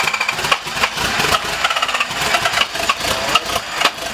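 A turbo Datsun engine fires up for the first time, running rough and choppy with irregular loud pulses and sputters close by.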